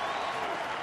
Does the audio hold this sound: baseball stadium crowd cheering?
yes